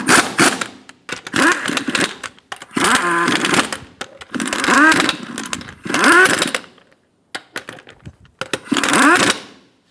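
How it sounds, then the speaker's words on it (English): An impact wrench snugs down lug nuts on a 2007-2017 Ford Expedition front wheel, heard up close as several loud, rattling bursts of one to two seconds each, separated by short pauses. "Snug down the lug nuts."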